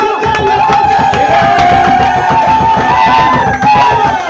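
A church congregation in Brazzaville cheers and acclaims at a sermon, a loud sustained crowd roar with rhythmic beats and voices continuing throughout.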